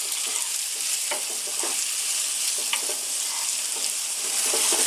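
A vegetable stew base of tomato, garlic, paprika, oregano and thyme cooks in oil over above-medium heat, giving a steady, soft hissing sizzle with faint occasional pops and stirring.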